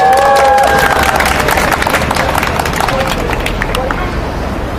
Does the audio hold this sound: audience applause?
yes